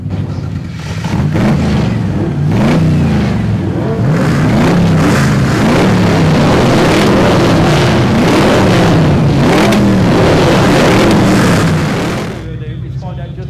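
Eight supercars rev their engines together at a supercar weekend demo and soundoff, producing a loud, continuous wall of overlapping exhaust roar with surging revs that holds steady for about twelve seconds, then cuts off.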